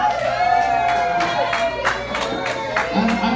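A comedy club audience at an open mic competition and roast battle cheers, whoops and claps loudly. The crowd noise is dense and sustained throughout, with shouted voices rising out of the roar.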